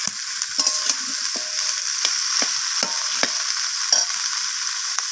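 Spinach stems, potato and radish are stirred in a frying pan, a bright continuous sizzle near at hand punctuated by a series of sharp spatula scrapes and taps at irregular intervals.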